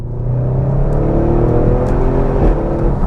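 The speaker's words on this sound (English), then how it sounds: "This car makes a dirty noise that a modern OPF car stands no chance of competing with." An Audi RS6 engine revving loudly and continuously, a deep throaty roar with a rising whir, close by and with no voices.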